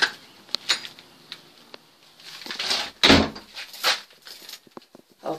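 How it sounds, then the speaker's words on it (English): A door being shut indoors near steps, with a few soft knocks and rattles leading to a firm thud, followed by faint shuffling and handling sounds in a quiet room. "I'm going to shut the door."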